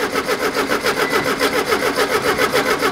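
A VW bus engine runs in a steady, sputtering rhythm right after being started, with regular pulsing beats and broad mechanical noise, fairly loud and close, with no talk over it.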